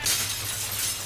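Window glass of a hospital shattering in the video game DayZ, a loud sustained crash of breaking glass with bright crackling shards lasting about a second, heard alone.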